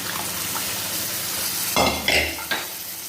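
Dal and green beans with softened onion, sautéed and stirred in a pan for dal tadka: a steady low sizzle broken by a few louder scraping stirs and metal clanks near the end, no talk.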